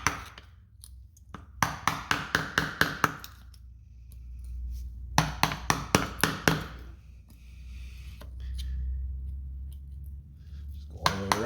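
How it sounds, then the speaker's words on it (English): A hammer strikes the axle seal on an OBS Ford F250's Dana 50 Twin I-beam front axle with sharp metallic blows, in two quick rapid-fire bursts of about eight hits each and a final short pair near the end. Each blow rings close and loud. "we'll just kind of hit it with a hammer, kind of just peel this"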